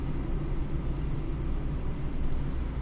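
A car drives through a road narrowing used as a speed reducer on a Danish road, giving a steady, close engine and tyre rumble with broadband road noise that holds level for the whole stretch.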